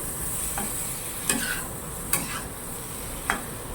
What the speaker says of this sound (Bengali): মশলাটা ভাজা ভাজা হয়েছে